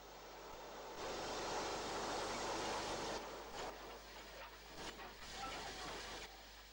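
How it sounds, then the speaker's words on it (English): A steam locomotive, a 4F 0-6-0, shunting near Leicester Midland Shed gives off a loud broad hiss of escaping steam that starts abruptly, then fades and surges in uneven bursts over a low rumble. "Also shunting in the approaches to Leicester Midland Shed is this 4F060"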